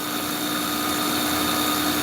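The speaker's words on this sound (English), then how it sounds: "This is sanding." A sanding machine works a Purple Heart wood knife handle, giving a steady, loud, continuous whirring drone with no pauses.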